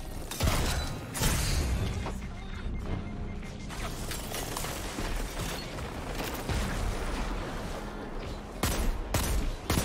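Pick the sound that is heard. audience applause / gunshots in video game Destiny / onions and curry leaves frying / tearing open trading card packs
gunshots in video game Destiny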